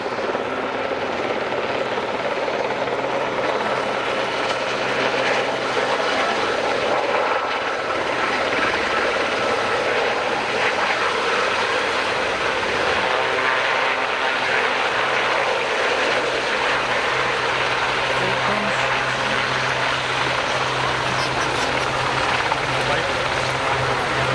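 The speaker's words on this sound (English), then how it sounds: "In it comes to land the Westland Seaking HU-5 from HMS Gannet." Westland Sea King HU-5 helicopter from HMS Gannet coming in to land at an air show display, a steady loud rotor and turbine roar that fills the scene with constant broadband noise.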